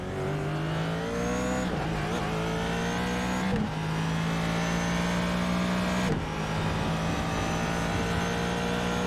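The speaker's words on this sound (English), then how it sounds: "We'll go quiet just so you can listen to the sound of the Ford engine." Ford GT race car in a GT3 race at Circuit de Barcelona-Catalunya, heard on board down the straight: a loud, continuous engine roar climbing steadily in pitch, broken by a few quick upshifts, with no commentary over it.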